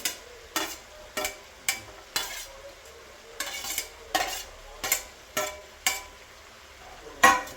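Ginger garlic paste sizzles softly in a pan for street-style chicken fry while a spoon scrapes and taps the pan in a steady series of about a dozen close, sharp strokes.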